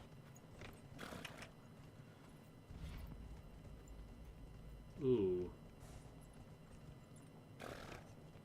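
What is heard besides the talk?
horse hooves in Dragon Age Inquisition video game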